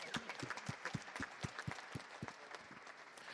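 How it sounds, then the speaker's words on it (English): Audience applause for award recipients at a cybersecurity conference, scattered rhythmic claps from a small crowd, fairly faint and distant, with a few voices in the background. "Let's give them one more round of applause"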